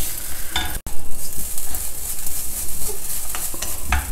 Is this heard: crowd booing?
no